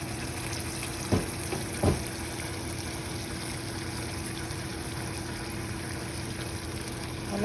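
Crispy chicken coated in buffalo sauce sizzles softly in a pan, a steady low frying hiss with a couple of brief stirring knocks near the start.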